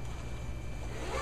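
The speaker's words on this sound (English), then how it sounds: "So it's kind of got this zipper that's at an angle here." Zipper being drawn on an angled pocket of a Jansport Agave daypack, a steady close, quiet rasping pull lasting just over a second with no voices.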